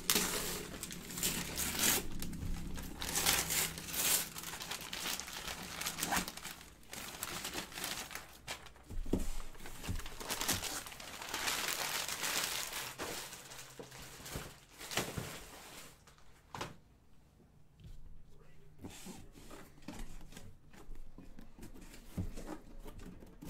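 Plastic wrapping on a 2018 Panini Donruss Optic football card box crinkles and tears in irregular bursts close by, fairly faint, with quieter pauses between.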